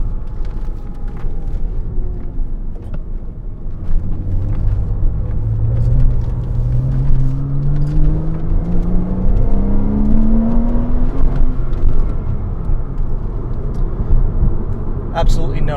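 A 2007 Porsche Cayman S driven hard through corners, its engine note rising and falling as it revs, under continuous road and wind rumble with someone talking over it.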